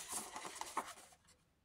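A pen or pencil scratches briefly on paper while sizes are noted down during a paper craft, a faint, close scribble lasting about a second before it fades.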